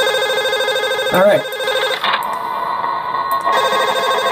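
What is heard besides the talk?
telephone ringing in video game Five Nights at Smudgers 3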